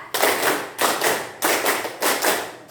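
A junior high classroom claps in unison during a counting clap game: four evenly spaced, close, loud bursts of many hands striking together, with no speech over them.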